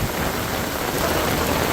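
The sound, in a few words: heavy rain and strong winds in Medina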